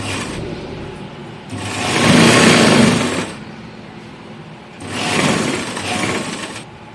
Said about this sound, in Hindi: इस तरह से हम सिलाई लगाते चलेंगे।